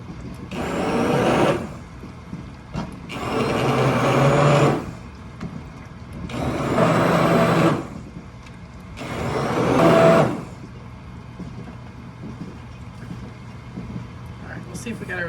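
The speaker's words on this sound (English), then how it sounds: "If you don't have an immersion blender, you can use a regular blender." An immersion blender purees homegrown tomato spaghetti sauce in four loud whirring bursts of about one to two seconds each, separated by short quieter pauses.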